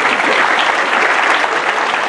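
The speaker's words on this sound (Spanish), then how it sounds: "Gracias por sus aplausos, señores." Loud, dense applause fills a live comedy show in Tambogrande, many hands clapping at once in a continuous wash of sound.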